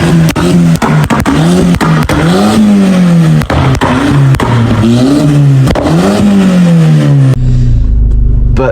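A tuned Golf GTI revs loudly up close, its exhaust firing sharp pops and bangs that crackle between the rising and falling engine notes before cutting off at the end.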